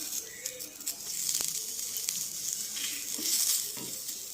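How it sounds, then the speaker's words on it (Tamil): Freshly grated coconut sautés lightly in a pan, giving a soft, fairly quiet sizzle with faint scraping and stirring noises and a few brief taps of a utensil. "இப்போ தேங்காய் துருவி அதையும் போட்டு லைட்டாக வதக்கி விட்டுறலாம்"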